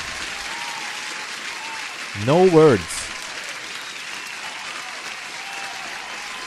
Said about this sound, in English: I gotta give you an applause, Natasha